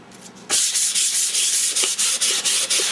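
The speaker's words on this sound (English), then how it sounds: "I want to go ahead and sand this," Close, loud sandpaper rasping against a wooden art table piece to smooth rough edges, starting abruptly and continuing in rhythmic back-and-forth strokes.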